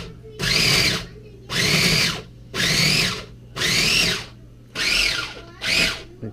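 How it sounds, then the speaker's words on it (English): A food processor grinding homemade fish food, six loud whirring pulses of about half a second to a second each, separated by brief silences, running close with no talk. "right into the food processor. Alright, I'm gonna go with grind."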